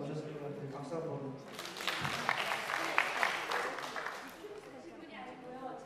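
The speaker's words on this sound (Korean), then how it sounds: "박수 한번." An audience at a talk applauds, with a burst of clapping rising after a man's speech and continuing under his voice for a few seconds before fading.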